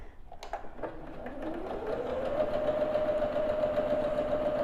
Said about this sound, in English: now we're going to sew this seam again